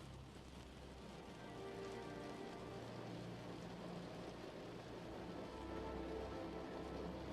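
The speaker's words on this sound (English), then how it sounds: "the sound of the rain" Soft, even rainfall patters steadily, a faint continuous hiss with a low hum underneath, calm and unbroken throughout with no voices.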